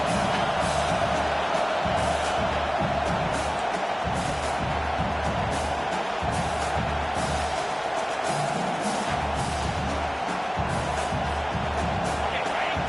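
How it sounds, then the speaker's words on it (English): A football stadium crowd roars steadily behind the home defense on third down late in the first half of a tight game, a dense, sustained wash of cheering with scattered whoops throughout. "Decibels rising as the crowd gets behind this defense on third down."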